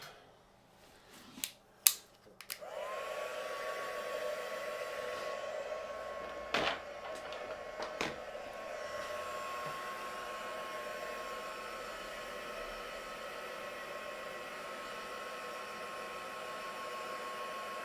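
Hair dryer style heat tool blowing steadily to dry watercolour-type paint on a spring greeting card, a continuous close whoosh running alone after a few clicks and knocks at the start.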